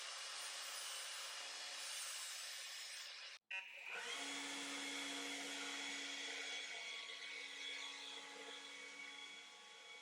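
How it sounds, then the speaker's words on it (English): A power grinder smooths a metal base, a steady loud hissing whine that cuts out for an instant and then resumes with a sustained tone. "I'm just going to finish grinding all this and making it a smooth finish"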